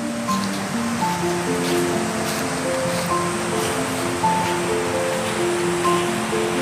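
Water gushing hard from a tap in a campsite washroom at an Orang Asli village in Cameron Highlands, a loud, steady, unbroken rush with no talking.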